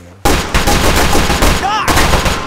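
Heavy's minigun in Team Fortress 2 firing a sustained, very loud, dense stream of rounds after an abrupt start, with a brief shout partway through.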